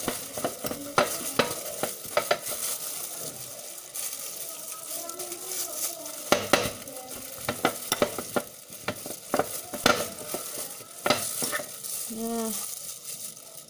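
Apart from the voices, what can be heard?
tofu being mashed with a spoon or fork until smooth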